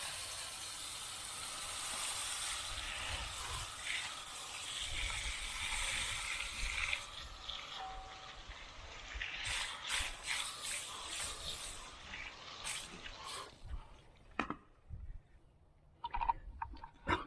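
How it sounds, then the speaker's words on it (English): Water spraying onto a car wheel to rinse off Super Clean wheel cleaner, a steady hissing splash for the first seven seconds, then broken bursts of spray and dripping that fade toward the end. "So now we're going to just rinse it off and see how much dirt it takes off with that."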